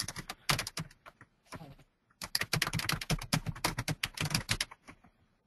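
Rapid clicking of a computer keyboard being typed on, bursts of keystrokes with a short pause, close and clear with no talking.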